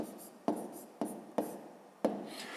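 Pen or chalk writing out a remainder in a fifth-grade division problem, heard as quiet scratchy strokes with four sharp taps as each figure starts, close and faint.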